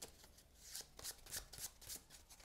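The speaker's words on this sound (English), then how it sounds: "So we're going to shuffle and draw another Tempest." Cards in a deck are shuffled by hand during a solo board game, a rapid run of crisp riffling bursts repeating for a couple of seconds, close and fairly quiet with no talk.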